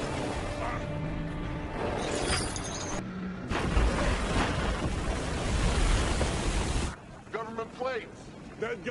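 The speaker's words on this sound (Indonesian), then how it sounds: "nekat menerjunkan mobil ke dalam sungai" A car plunging into a river in the film Shooter: a loud rushing splash and churning water roar that cuts off abruptly, followed by quieter bubbling and gurgles, with a voice speaking over parts of it.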